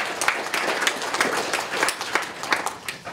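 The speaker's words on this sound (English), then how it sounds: "You give yourselves a round of applause." Round of applause from students at a student government cabinet meeting, a thin scattering of separate claps from a small group, moderately faint, a few claps standing out above the rest.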